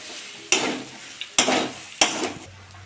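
A chilli-spiced potato mixture for aloo chop is stirred in a pan, three distinct scraping strokes of a spoon against the metal over a low background sizzle, close and fairly loud.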